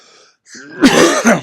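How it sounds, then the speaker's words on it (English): After a short quiet breath, a single harsh cough bursts out close up, followed by a second rough cough. "Sorry folks, excuse my cough."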